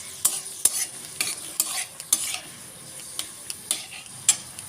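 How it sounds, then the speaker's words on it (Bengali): Prawns fry in hot oil in a home kitchen, giving a soft steady sizzle punctuated by sharp, regular scrapes and clinks of a spatula stirring against the pan. "এবার চিংড়িটা ভেজে নিচ্ছি ভালো করে।"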